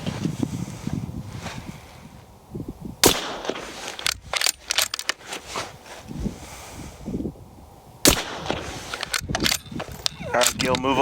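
Rifle shots fired at a target through a $60 Amazon scope ring out as two sharp loud cracks outdoors, each followed by rattling echoes and softer shots, with people talking in between.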